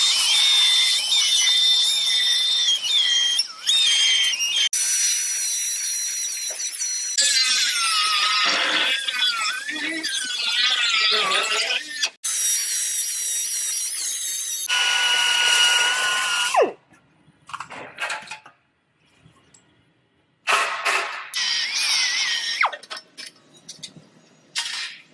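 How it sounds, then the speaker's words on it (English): A power tool cutting through a car's metal radiator support in a body shop: a loud, close, continuous high-pitched grinding whine that squeals and shifts in pitch, then breaks into short bursts and pauses toward the end. "I'm going to go ahead and cut this radiator support out and then start sectioning my frame rail"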